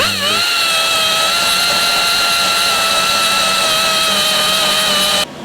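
A power tool grinds a V-groove along a crack in a weld, a loud, steady, whining drone that holds almost unbroken, then cuts off near the end.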